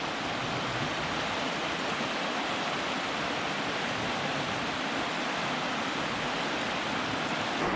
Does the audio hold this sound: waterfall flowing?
yes